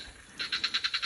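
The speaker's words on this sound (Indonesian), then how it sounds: "Kayaknya suara kodok deh." Rhythmic frog croaking outdoors near a pumpkin patch: a quiet lead-in, then six or seven loud, evenly spaced pulsing croaks building in volume.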